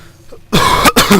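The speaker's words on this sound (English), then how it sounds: "Oh, I got a cough." A few sharp, close coughs in quick succession break a near-silent pause, harsh and throaty.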